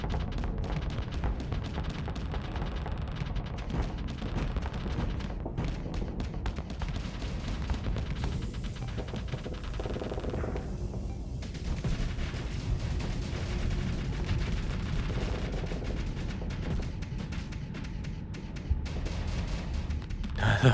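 Missiles fire in a Starsector space battle, a dense rumbling barrage of booms and blasts that rolls on continuously at moderate loudness.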